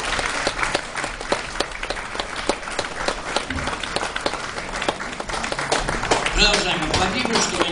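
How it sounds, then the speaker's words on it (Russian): A concert audience applauds a jazz big band, with dense, even clapping sustained throughout and a few sharper claps and faint voices standing out. "Продолжаем аплодировать"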